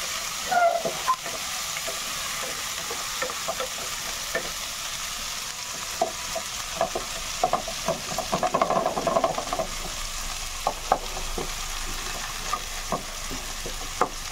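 Steady sizzling of food with tomatoes frying in a kadai, with scraping and clinking of a spoon stirring through it, continuous and close.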